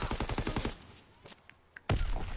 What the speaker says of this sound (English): heavy gunshots going down